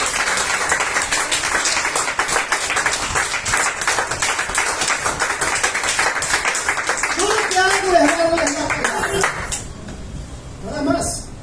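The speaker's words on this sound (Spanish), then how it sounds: "Dele aplausos al Señor." A church congregation bursts into sustained, loud applause that carries on for several seconds. Voices rise over it near the end, and the clapping then thins out and fades.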